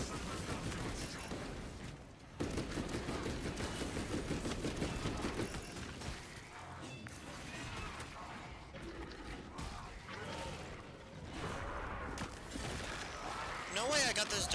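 An automated sentry gun fires in Resident Evil Requiem as a quiet, steady clatter of shots mixed with mechanical noise and game effects, with a voice talking over it.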